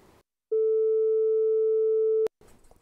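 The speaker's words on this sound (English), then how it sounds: "let's take a sine wave, and I just hook up the output of the sine to the left audio output" A pure synthesized sine tone from Patchblocks modular software holds steady and loud for nearly two seconds, starting and stopping abruptly, with brief quiet noise on either side.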